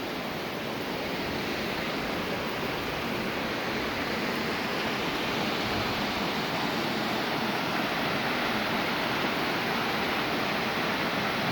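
Waterfall and rushing creek water at Slotpool Falls in a rocky Arkansas Ozarks canyon, a steady, dense roar of falling and flowing water that stays loud and even throughout, with no voices.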